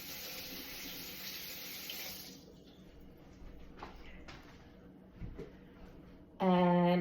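Mushrooms being rinsed under a running kitchen tap, a steady broadband water rush for about two seconds that then fades into quieter handling noises, with a brief louder tonal sound at the very end.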